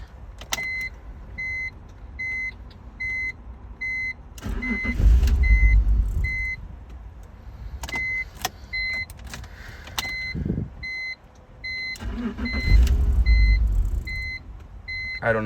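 A BMW E46 engine cranks and catches briefly twice, each time dying almost immediately, while repeated electronic warning chimes beep steadily in the car's cabin between the rough bursts.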